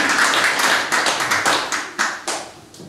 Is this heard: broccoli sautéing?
no